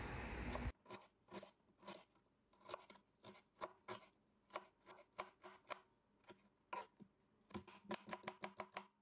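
A dry onion being finely chopped with a knife on a board, producing a steady run of crisp, evenly spaced close-up chops after a brief opening burst of noise.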